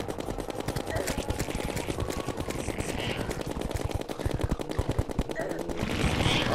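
Rapid gunfire from Terraria rattles on without pause, a dense stream of loud, close shots in quick rhythm with a few brief higher blips riding on top.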